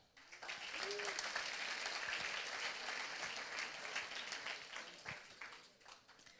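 A conference audience at a live-streamed event in Israel applauds visiting Silicon Valley guests. The clapping swells within the first second, holds steady and then thins and fades. It is fairly faint and without talk.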